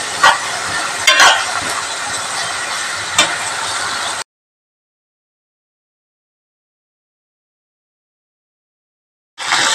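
Salted onions sautéing in a pan for Kerala carrot thoran, a steady close sizzle broken by occasional stirring clatter, then cut off by silence before resuming briefly.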